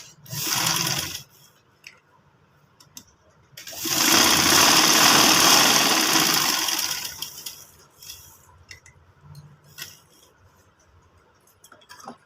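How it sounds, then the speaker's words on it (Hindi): A sewing machine stitches the side pocket of a men's garment, running in a short burst and then a longer steady run of about three seconds, close and fairly loud, with quiet handling noises in between and no talking. "यहाँ से हमने 1/2 इंच छोड़ के यहाँ से सिलाई लगानी है"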